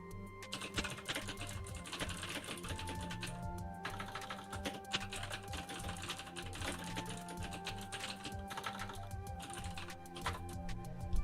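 Computer keyboard keys clack in quick, irregular bursts, fairly quiet and close, layered over a busy tonal backdrop that carries on through the whole stretch.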